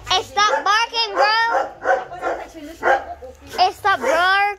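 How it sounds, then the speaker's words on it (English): A dog barks repeatedly from close by, short harmonic yaps and whimpering barks in quick irregular bursts while a young person talks and shouts over it. "Hey, stop barking, bro!"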